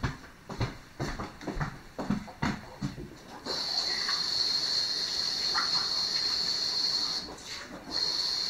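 Water runs from a tap or is poured into a container, a steady close hiss lasting several seconds after a run of handling clatter and knocks.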